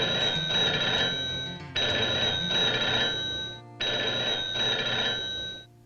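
A cartoon telephone bell rings in three long, loud bursts, each a shrill, continuous metallic trill separated by brief pauses.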